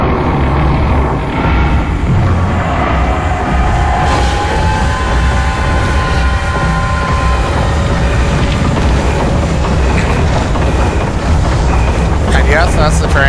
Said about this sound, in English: And yes, that's the train